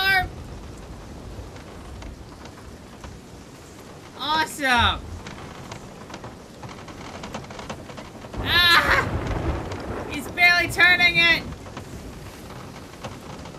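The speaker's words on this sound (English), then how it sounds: "I'm in the center of a storm." Rain and a thunderstorm at sea in the video game Sea of Thieves: steady rain hiss with low rumbles and a few sharp bursts, heard under talking.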